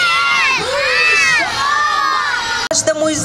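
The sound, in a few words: crowd of children shouting for Grandfather Frost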